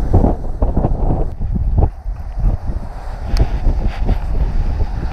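Gusty wind at a pond during early spring bass fishing buffets the microphone with heavy, rumbling bursts that rise and fall over several seconds, loud and close, with no clear speech.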